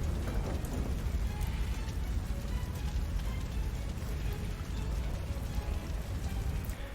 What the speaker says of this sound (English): God damn it, this rain is like out to get me, I swear.